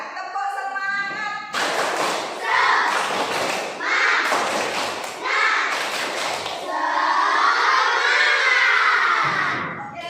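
Primary schoolchildren in a classroom perform a rhythmic spirit clap, bursts of loud group clapping in a patterned beat mixed with chanting and shouting, ending in a sustained cheer.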